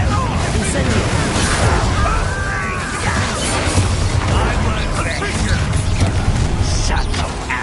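A continuous roar of blasts and crashes from explosive Incendiary spell casting in Hogwarts Legacy fills the whole stretch, dense and loud with overlapping bursts, while voices speak over the din.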